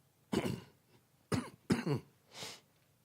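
Three harsh coughs close to the mic, the last two coming in quick succession, followed by a breathy exhale in an otherwise quiet room.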